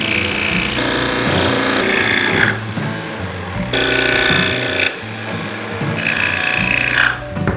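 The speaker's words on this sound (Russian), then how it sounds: "И теперь продолжаем выпиливать лобзиком" A jigsaw saws through a solid hardwood cutting board in close, loud bursts of rasping cuts, with brief pauses between passes as the blade is repositioned.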